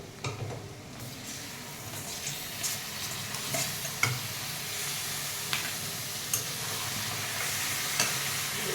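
Washed raw chicken goes into a hot pan for chicken curry and gets stirred, with a loud, steady sizzle up close and periodic clinks and scrapes from the spoon.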